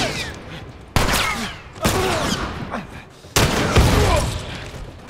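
Gunfire from The Last of Us video game cracks in three sharp, loud shots spaced about a second apart, each followed by a rumbling echo and lingering game noise.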